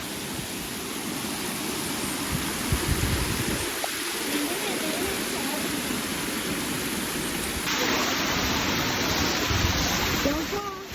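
Madhe Ghat waterfall flowing, a loud, constant broadband rush of falling water that fills the whole scene without letup.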